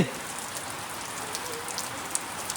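Steady monsoon rain patters on a shed roof at a temple cow shelter, a soft continuous hiss with occasional louder drops, no voices.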